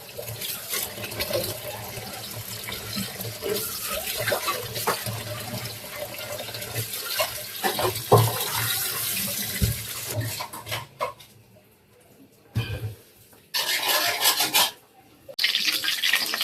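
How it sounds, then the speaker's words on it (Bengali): Cold tap water runs steadily over boiled noodles in a kitchen, a loud continuous splash that stops and restarts in short bursts near the end. "এখন একটু ঠান্ডা পানি দিয়ে ধুয়ে নিব"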